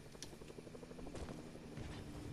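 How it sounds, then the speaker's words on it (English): A helicopter in a video game, heard as a faint, steady rotor drone with a low rhythmic chop that continues through the whole short stretch, blended with soft background game sound. "There's a helicopter there ramming it as well."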